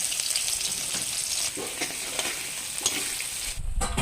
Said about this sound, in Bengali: তেলটা গরম হয়ে গেছে, এখন আমি দিয়ে দেব শুকনো লঙ্কা, পেঁয়াজ কুচি।